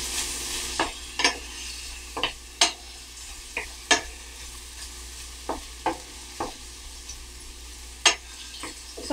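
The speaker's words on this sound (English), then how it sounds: "So I'm going to go ahead and let the onions and garlic cook together, get soft" Onions and garlic frying in a pan for drunken noodles, a steady sizzle broken by repeated sharp clacks of a utensil stirring against the pan, close by with no talk.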